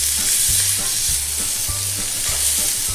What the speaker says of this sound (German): und wir grillen das jetzt an.